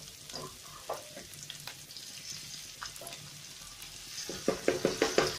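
Tomato and onion frying in oil for a Mangalorean mackerel pulimunchi, a soft steady sizzle with scattered stirring scrapes, growing busier and louder toward the end, close and without speech.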